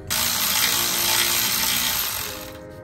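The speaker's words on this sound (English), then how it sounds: "We gotta take off a few bolts down here." A ratchet or power tool whirs steadily while bolts come off a transmission valve body and TCM on a Monte Carlo, a sustained mechanical buzz that winds down at the end.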